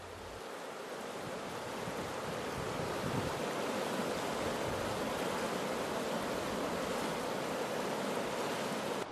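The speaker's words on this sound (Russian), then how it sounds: "Здесь очень быстрое течение" A fast river current rushes over a steep drop on a Karelian river, a steady, dense roar of flowing water heard close and alone.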